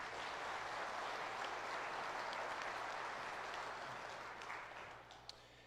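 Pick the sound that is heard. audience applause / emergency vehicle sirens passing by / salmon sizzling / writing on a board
audience applause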